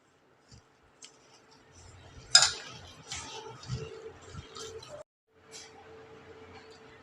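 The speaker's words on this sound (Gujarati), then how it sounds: "હવે સારી રીતે મિક્સ કરી લઈશું એને." Bread tikki mixture with chopped coriander and fine maize flour being stirred and mixed in a bowl, giving soft scraping clinks and taps in an uneven rhythm, close and fairly quiet, with a brief pause near the end.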